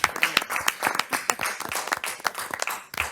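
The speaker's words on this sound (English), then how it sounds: "I would like to give Luke a round of applause from all the commissioners" County board commissioners applauding during a meeting, a short burst of uneven clapping from a small group, fairly close, with individual claps distinct and a few soft voices mixed in.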